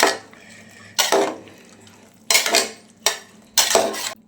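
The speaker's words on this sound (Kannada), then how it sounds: "ಮಶ್ರೂಮ್ನು ಹಾಕ್ಕೊಂಡೆ ಎಲ್ಲ ಮಿಕ್ಸ್ ಮಾಡ್ಕೊತಿದ್ದೀನಿ" Mushrooms being stirred into palav in a pan: four or five distinct scraping clatters of a metal spoon against the pot, close and fairly loud, separated by short quiet gaps with a faint low hum beneath.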